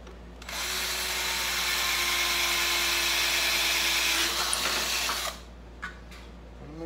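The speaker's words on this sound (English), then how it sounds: "So I'm going to start with the drill." A power drill drilling holes in a clay extruder die whines steadily for about five seconds, then stops, followed by a couple of brief clicks and handling sounds.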